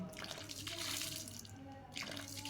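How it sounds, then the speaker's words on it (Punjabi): Water gushes steadily from a tap that has just started flowing, a continuous broadband splashing rush lasting the whole stretch with no one talking. "ਆ ਵੇਖੋ ਟੂਟੀ ਚੱਲ ਪਈ"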